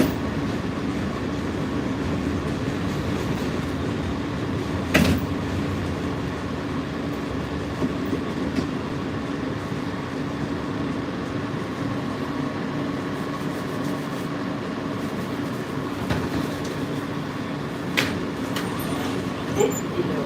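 A New York City subway L train near Sutter Avenue rides with a steady loud rumble and rattle, with occasional sharp clicks and clanks from the wheels and car, and no voices.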